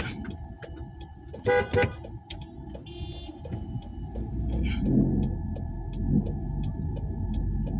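Car moving through traffic in Gambia, a steady low engine and road rumble throughout with a short double burst of horn toots near the start and fainter honks further off.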